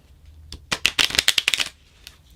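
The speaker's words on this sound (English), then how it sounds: "the cards are just making ugly sounds" A deck of oracle cards is riffled and shuffled in a quick burst of sharp, papery flutters and slaps. It is close-up and loud, ends abruptly, and is surrounded by quiet.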